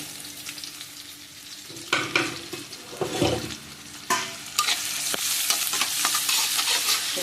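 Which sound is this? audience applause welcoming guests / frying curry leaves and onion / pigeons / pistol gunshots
frying curry leaves and onion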